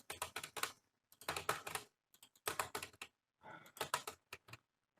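Typing on a computer keyboard during a checkout form entry, close and clear bursts of quick clicks separated by brief pauses, with no voices.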